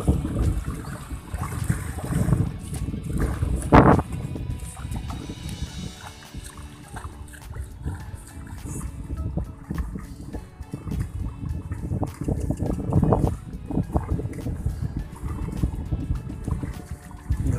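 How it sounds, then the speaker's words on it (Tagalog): Strong wind gusting across open farmland where a tractor churns mud, a steady broadband roar buffeting the microphone throughout with a sharper gust partway through. "Lakas ng hangin."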